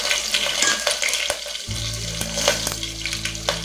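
Mustard seeds, a green chili and two dried red chilies sizzle and crackle in hot oil, a close steady frying hiss with scattered pops and soft stirring, and a low hum from partway on. No voices.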